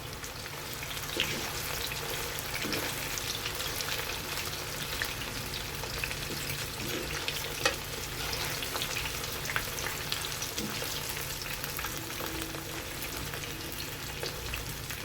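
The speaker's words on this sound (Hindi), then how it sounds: "मीडियम फ्लेम पे इसको फ्राई करेंगे पनीर को" Paneer fries in oil over a medium flame, giving a steady close crackling sizzle with scattered pops throughout and no talking.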